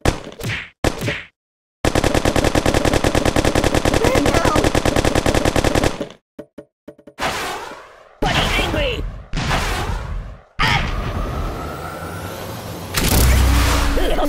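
Video-game gunfire in Kick the Buddy: a sustained rapid machine-gun burst of evenly spaced shots for several seconds, followed by scattered single bangs and short bursts separated by silent gaps.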